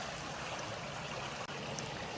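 Creek water flowing steadily along the Appalachian Trail, a continuous broadband rush and trickle close by with no voices.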